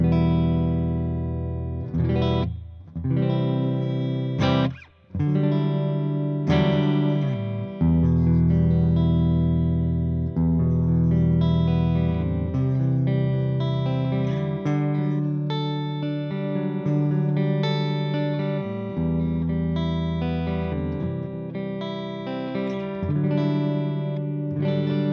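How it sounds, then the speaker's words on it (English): A Washburn Idol electric guitar with a Seymour Duncan 59 pickup plays clean tones through a Devilcat Missy amplifier, with ringing chords and sustained notes continuing for about 25 seconds and no talking. "So first we've got some clean tones."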